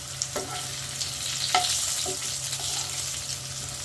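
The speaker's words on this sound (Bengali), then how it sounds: "আলুটা এইভাবে একটু লাল লাল করে ভেজে নিতে লাগবে।" Potato pieces frying in oil in a pan, a soft steady sizzle with a few scraping stirs of a spatula, heard close up with no talking.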